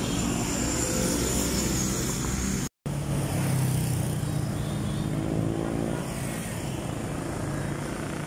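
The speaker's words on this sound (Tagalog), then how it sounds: "Mabibilis ang daloy ng mga sasakyan mga kaisarog." Cars pass by on the road outside Walter Mart in Cabuyao, a steady wash of engine and tire noise with vehicles swelling close and fading, broken by a short gap partway through.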